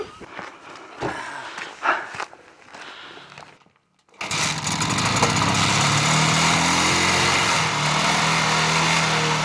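A motorcycle engine starts up and runs steadily near the mic on the way to a Mongolian village, after a quieter stretch of faint shuffling and outdoor noise.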